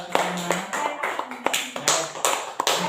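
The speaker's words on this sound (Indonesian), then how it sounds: "Beri tepuk tangan buat kelompok satu pertama." A classroom applauds the first student group after its presentation: a short run of sharp, uneven handclaps from a few people nearby, some voices mixed in.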